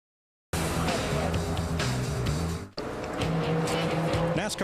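A NASCAR stock car runs a qualifying lap at Phoenix International Raceway in 2004, its engine droning loudly and steadily after a brief silence, with a short break midway before the roar resumes.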